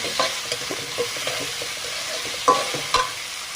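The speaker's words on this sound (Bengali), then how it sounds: "ঝাল পেঁয়াজ ভেজে নিচ্ছি" Sliced onion and garlic frying in a pan for a banana-flower and shrimp curry, with a steady sizzle and repeated close scraping stirs of a spatula against the pan.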